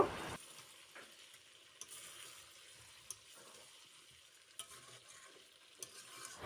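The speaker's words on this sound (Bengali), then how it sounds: "এবার আমি একটু ভালোভাবে কষিয়ে নেব" Chicken curry with marinated meat frying and being stirred in a pan, a soft steady sizzle broken by occasional scrapes and knocks of the spoon against the pan.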